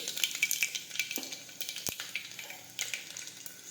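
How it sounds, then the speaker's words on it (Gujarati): Garlic, mustard seeds and cumin dropped into hot oil, a close crackling sizzle with quick popping bursts and a sharp clink of a utensil, no voices. "હવે આપણું તેલ છે તે ગરમ થઈ ગયું છે. હવે આપણે તેમાં લસણ નાખી દઈશું."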